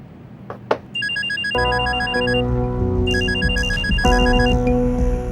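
A telephone rings in bursts with a bright electronic trill, loud and close, across a TV comedy scene set in a police station, with a steady musical tone running underneath and no one speaking.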